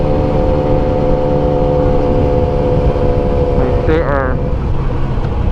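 A 600cc sport motorcycle engine holds a steady, loud drone with layered harmonic hum throughout, briefly rising in pitch near the end as the revs climb.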